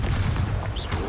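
A Confringo spell explosion in Hogwarts Legacy booms loud and close, a short low rumbling blast that fills the moment without pause.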